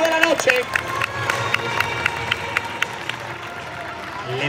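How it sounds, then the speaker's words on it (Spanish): Crowd ovation at a bull-cutting contest in Dueñas, 2023: a sustained roar of clapping and cheering from the arena audience, with scattered sharp claps and shouts over a continuous murmur. "Fuerte ovación para el primer grupo de la noche."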